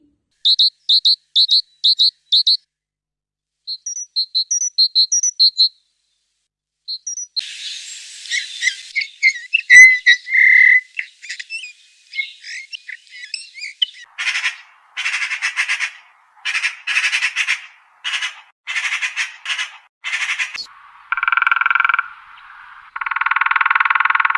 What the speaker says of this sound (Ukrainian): нашу зустріч співом пташок починаємо